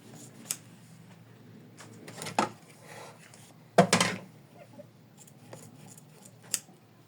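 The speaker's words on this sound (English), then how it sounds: "So we need to trim it carefully." Scissors trimming the edges of an embroidered in-the-hoop bookmark, a few sharp separate snips and clicks spread across a quiet background, close by with no talking.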